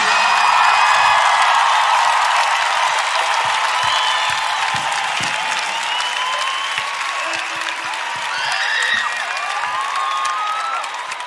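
Arena concert crowd at Pavilhão Atlântico in Lisbon gives loud, continuous applause with scattered cheers and whoops that rise and fall across the whole stretch.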